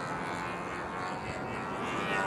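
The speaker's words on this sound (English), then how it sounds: "I don't know how to land this plane" E-flite Pogo radio-controlled model plane in flight, its small electric motor giving a steady buzzing drone with no voices heard.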